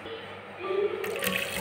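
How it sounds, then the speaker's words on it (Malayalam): Water poured over frozen fish to thaw it, a short splashing pour that swells in the second half, close and moderately loud, with no talk over it. "കുറച്ച് വെള്ളം ഒഴിച്ച് വെക്കാം കേട്ടോ. അതിൻ്റെ ഐസ് ഒന്ന് പോട്ടെ"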